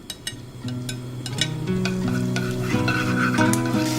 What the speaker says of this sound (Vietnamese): Khi dầu hơi nóng thì mình cho hành tím vào trước nè.